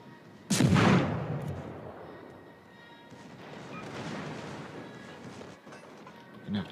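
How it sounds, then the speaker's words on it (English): A ship's deck gun in a naval battle video game fires one heavy, booming shot with a long rumbling decay, followed by a lower wash of background battle noise and a faint thud at the very end. "So fire the one gun"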